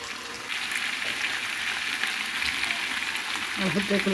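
Meat for a kabab fries in a pan with a steady hiss and crackle, with occasional scraping as the pieces are turned and stirred.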